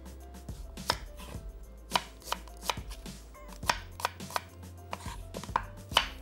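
Sharp knife strikes chop onions on a cutting board in a home kitchen during kofta preparation, a steady series of crisp, close taps at an uneven rhythm with no talking.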